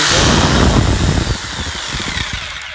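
A used electric power saw, part of an imported power-tool sale, cuts loudly and close up, a dense rasping whine that is strongest at first and then eases slightly as the cut continues.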